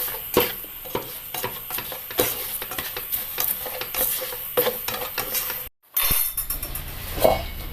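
Spoon scraping and clinking against a hot pan as roasted coconut, coriander and chilli are stirred, a steady run of close metallic scrapes with a brief gap before it resumes.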